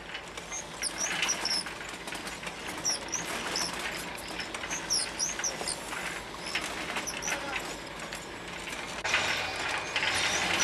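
Factory machinery turning eucalypt branches into cotton reels, a continuous busy rattle of mechanisms and small clicking parts running without a break.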